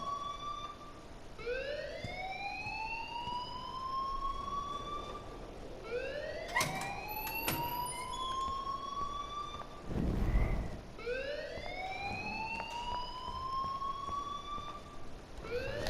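School alarm ringing in the video game Life is Strange, a rising, repeating siren-like wail that sweeps upward in steady cycles, moderately loud with faint clatter between.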